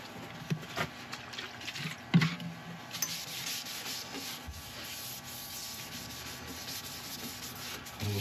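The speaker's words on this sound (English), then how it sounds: "I'm just going to go on with a quick bit of isopropyl just to clean out the pores of the wood." Cloth rubbing isopropyl alcohol onto a turned American black walnut bowl, a soft continuous wiping and rubbing with a few sharper scuffs, close up and fairly quiet, with no voices.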